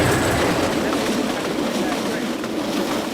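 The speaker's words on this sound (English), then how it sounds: "So this is the railway line which is here." A narrow gauge train passes on a railway line, producing a loud, continuous, close-up rumble and roar that holds steady for the whole stretch.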